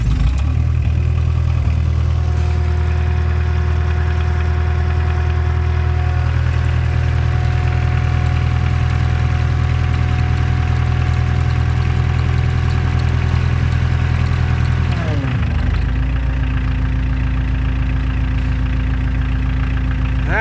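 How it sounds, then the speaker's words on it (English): A diesel engine idles steadily and loudly up close in cold weather, with a constant low rumble and clatter around 800 rpm; its pitch dips and shifts briefly partway through. "Idling up around 800 there now."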